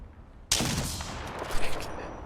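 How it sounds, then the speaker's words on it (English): Sniper fire aimed at a player in a video game cracks in abruptly with a loud burst, trailing into a noisy, rumbling tail with a couple of sharper hits near the end. "You're getting sniped at."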